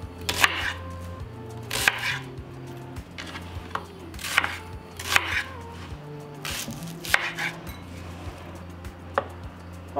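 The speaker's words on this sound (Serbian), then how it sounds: "Iseći ću luk na komade jer ću ga stavljati u secka." A knife chops three brown onions into pieces with sharp, distinct strokes roughly every second or two, about seven cuts in all, over a low steady background hum.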